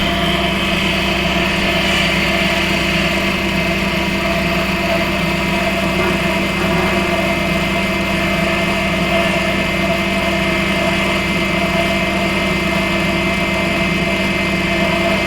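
HNL 13mm bench drill press running at its highest speed setting, a steady continuous motor whir with a constant tonal hum, loud and unbroken throughout.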